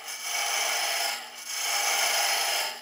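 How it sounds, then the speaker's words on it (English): A hand gouge cuts a hollow into a wooden cheese serving board, a dry scraping rasp of steel on wood in two long strokes with a short pause between, close and steady. "Here we're going to use tip of the gouge again, so we're coming in to start to create a hollow"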